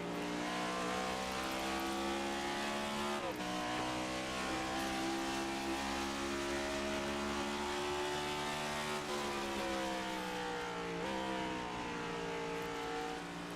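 Race cars in a stock car event, engines droning loudly and continuously with pitch dropping sharply several times as they downshift into the turns, then climbing again on the drive off the corner.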